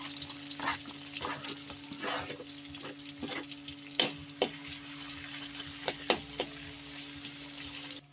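Ginger sizzles and is stirred in a frying pan while Kapampangan gatang laing is cooked, with a soft steady frying hiss broken by clinks of a utensil against the pan and no talking.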